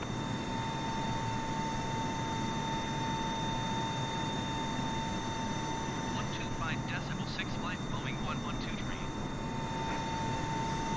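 Steady broadband jet engine roar of a Boeing 747 mod climbing in Microsoft Flight Simulator 2020, a continuous airliner drone with faint chirpy tones partway through, under a speaking voice.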